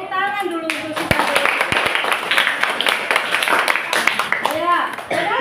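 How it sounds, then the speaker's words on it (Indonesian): A classroom of students clapping for a classmate during a presentation; a burst of loud, close, uneven hand claps, with children's and a teacher's voices talking over it at the start and end. "Kasih tepuk tangan dulu untuk si"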